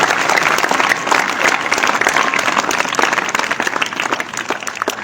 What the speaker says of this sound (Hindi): तो एक बार जोरदार तालियां फिर से नितिन के लिए